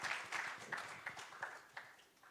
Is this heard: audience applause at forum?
yes